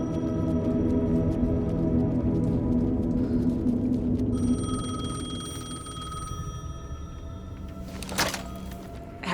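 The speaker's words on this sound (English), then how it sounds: "The payphone was ringing." Payphone ringing in the video game Alan Wake 2, an electronic bell tone that sounds under a low drone and eerie ambience, followed by a thunk near the end.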